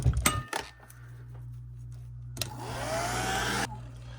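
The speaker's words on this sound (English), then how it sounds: "I've got the Conair hair dryer here" After a few metallic clinks, a Conair hair dryer switches on nearby and blows steadily for about a second, drying a washed Singer 431 G rotating hook, then cuts off.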